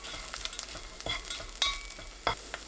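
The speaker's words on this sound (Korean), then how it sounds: "냄비에 건새우 한 줌, 다진 마늘 3분의 1 큰술, 참기름 1큰술, 소주 1큰술 넣고 중불로 1분 30초 볶아주세요." Dried shrimp, minced garlic, sesame oil and soju stir-fry in a pot over medium heat, with a quiet low sizzle broken by several sharp scraping stirs of a utensil.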